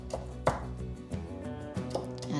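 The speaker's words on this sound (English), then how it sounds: "chop the coriander leaves into small pieces" A knife chops coriander leaves on a board in a quick uneven rhythm, about half a dozen sharp close knocks over a low background hum, with no talking.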